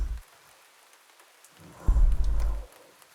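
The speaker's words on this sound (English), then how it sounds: "I thought that was IRL thunder or lightning." Rain and a deep rumbling thunderclap in the horror video game Mouthwashing: soft steady rainfall, then a heavy low rumble swelling for under a second before fading back to the rain.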